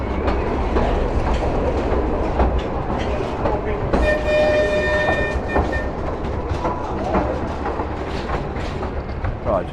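The Pleasure Beach Express amusement ride train at Blackpool Pleasure Beach rolls through a tunnel with a continuous rumbling clatter of wheels, and a brief steady horn-like tone sounds midway.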